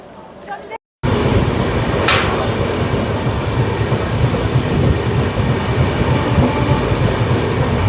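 Inside the Kolkata to New Jalpaiguri train 15959, a loud, constant rumble and rattle of the moving carriage fills the scene after a brief quieter moment at the very start.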